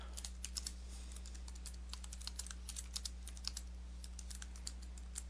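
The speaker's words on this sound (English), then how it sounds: "We'll type our note." Fingers tap out a short note on a computer keyboard in quick, uneven clusters of light clicks, close and fairly soft over a low steady hum, with no voice.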